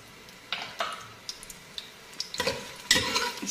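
Onions fry in hot oil for chicken biryani, a steady sizzle broken by bursts of stirring and scraping in the pan, close and moderately loud.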